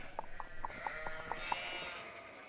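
A sheep bleats in the video game Nancy Drew: The Haunting of Castle Malloy, a string of quick wavering calls followed by a drawn-out bleat, faint over a soft ambient backdrop.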